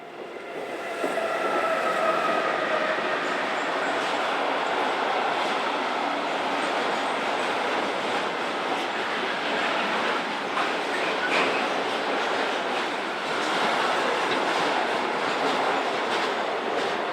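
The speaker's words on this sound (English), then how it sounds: "DB Class 185088 leads this intermodal service from Gallerati to Basel." A DB Class 185 electric locomotive hauls an intermodal freight train past at close range, with a steady loud rumble and clattering wheels over rail joints that continue throughout.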